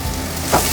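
Two sliced onions sizzling in hot oil in a pan while making chicken roast, a brief steady frying hiss with a slight swell near the end.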